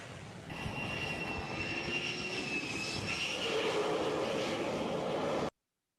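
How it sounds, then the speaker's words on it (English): Jet aircraft roaring on the deck of an Indian aircraft carrier during landings and takeoffs, a loud sustained engine drone with a high whine rising in the middle before cutting off abruptly. "They land planes, jets like this, every 42 seconds."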